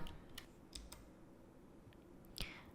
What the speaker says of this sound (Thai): การเว้นหายใจตรงนี้ของเราเรากด R ไปนะคะ